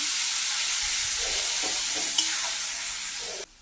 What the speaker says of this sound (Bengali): মশলা ধোয়া জলটা দিয়ে দিচ্ছি। ভালো করে নাড়িয়ে চেড়িয়ে নেব।